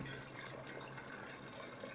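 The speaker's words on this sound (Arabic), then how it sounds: "نمرقوها بشوية ماء" Water pours into a cooking pot of chicken for a rice dish, a steady splashing gush running evenly throughout with no talk.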